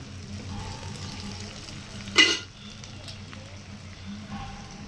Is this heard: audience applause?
no